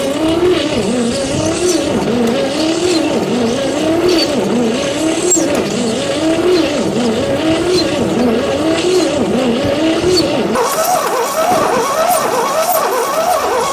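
A 1959 Chevy pickup engine, long abandoned and with no compression, cranks on a weakening battery, giving a steady loud rhythmic starter churn that keeps its pace before shifting tone near the end, with no speech over it.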